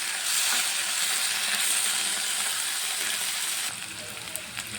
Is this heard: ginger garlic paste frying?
yes